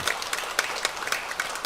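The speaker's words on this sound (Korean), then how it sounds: "이 시간 함께 한번 격려하는 차원으로 박수 한번 해드리겠습니다" Church congregation clapping during a Sunday worship service in Korea, a short burst of steady applause from a room of people, moderately loud and dense with scattered sharper claps.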